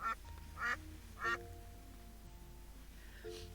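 Duck in the video game Equilinox quacking three times in quick succession, soft and fairly close, followed by a fainter call near the end over a quiet musical background.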